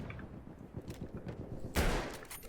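Sniper rifle fire in the World War I shooter Battlefield 1, a dense crackle of distant gunfire followed by one loud, close shot near the end.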